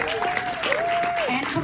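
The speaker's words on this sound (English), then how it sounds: "Some applause." Audience applause at a filmmaker's Q&A with a songwriter and a composer, a brief burst of clapping beneath a voice speaking over it.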